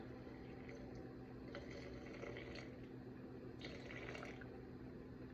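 Faint trickling of water pouring into a sourdough starter container over a steady background hum, with no talking.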